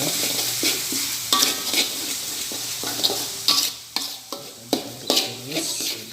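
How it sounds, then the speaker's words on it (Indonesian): Shredded beef frying in a pan while being stirred, giving a steady close sizzle broken by repeated scraping strokes and occasional clinks of the utensil against the pan. "Aduk terus."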